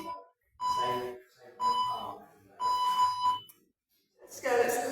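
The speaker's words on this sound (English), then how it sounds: "So I'll set the timer for a few seconds." A workout timer gives repeated electronic alarm beeps in short bursts, about four evenly spaced pulses at moderate volume with quiet gaps between them.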